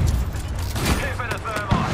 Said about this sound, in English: Throwing thermite grenade. Thermite grenade out.